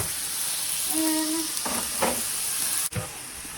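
Onions frying in a single pan for cheesesteaks, a steady close sizzle and hiss throughout with a few stirring scrapes and a brief clunk near the end.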